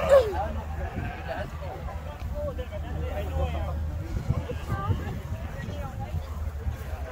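Sheep bleating amid a busy crowd at an agricultural show in Ireland, with people talking throughout and a steady outdoor murmur under the animal calls.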